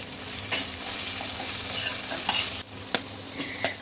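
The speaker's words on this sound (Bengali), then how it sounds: "এর মধ্যে আমি লবণ হলুদ দিয়ে টমেটোটা একটু নাড়াচাড়া করে নেব" Tomato with salt and turmeric stirred in a hot pan, a continuous sizzle with a few distinct scraping strokes of the spatula, close and fairly loud, no voices.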